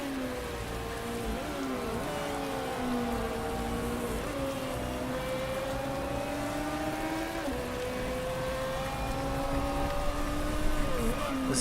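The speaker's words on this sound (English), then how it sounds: "This is our first heavy rain" Heavy rain on a race track in the Motorsport Manager racing game, a steady hiss of rainfall with race car engines whining and shifting pitch over it, no talk.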